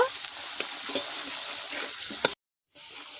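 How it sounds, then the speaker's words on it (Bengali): Potatoes fry in oil with salt and turmeric over low heat, a steady close hiss and sizzle with small pops. The sound cuts briefly to silence near the end, then the sizzle resumes. "আলুটাকে আমি হালকা আঁচে একটু লাল করে ভেজে নেব।"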